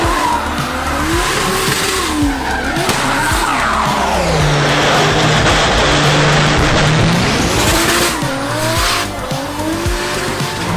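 A drifting Lexus SC300 screeches loudly and continuously, its tires squealing and skidding over the roaring, wavering engine, close and sustained.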